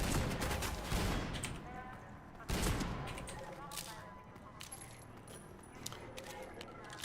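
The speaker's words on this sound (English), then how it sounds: "Now we break out the freaking big gun." A big gun firing in the Half-Life 2 MMod shooter: a dense rapid-fire burst, then a second heavy blast about two and a half seconds in, followed by scattered metallic clinks and shell-casing rattles.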